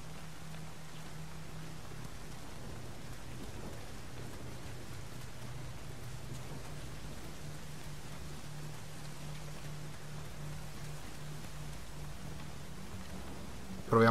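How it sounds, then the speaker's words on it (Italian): Steady rainfall in the video game Nioh, an even, hissing wash of drops with a faint low hum beneath, unchanging throughout and ending with a brief louder burst. "non si vede tanto bene con la pioggia cadente"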